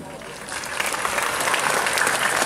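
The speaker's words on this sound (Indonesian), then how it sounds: "Tepuk tangan untuk Leus Bumi" Audience applause at a Javanese community gathering on wayang history in Singosari, a dense burst of clapping that swells slightly and stays steady, with some crowd voices mixed in.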